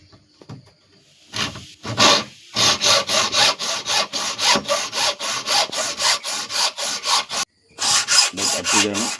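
Pieces of cut coconut shell being shaped for a craft name board, giving loud, repeated rasping strokes in a steady rhythm, close up, with a few brief pauses and no talking.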